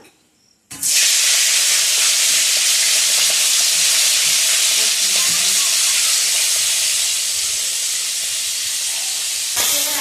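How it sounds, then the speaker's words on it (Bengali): Prawns fry in hot oil with salt and turmeric, a loud, steady sizzle and hiss that starts abruptly and runs unbroken close by, with faint stirring under it. "লবণ হলুদ দিয়ে আমি এটা ভেজে নেব"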